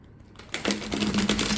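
A glossy cardstock tarot deck is shuffled at close range, giving a quick run of crisp, papery riffling clicks that begin softly and become louder and denser, with no talking.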